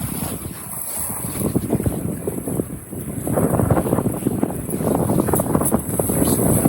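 Buccaneer 18 sailboat running under full sail in a fresh breeze on Yale Lake, with steady wind rushing over the microphone and water washing along the hull, growing stronger and louder toward the end.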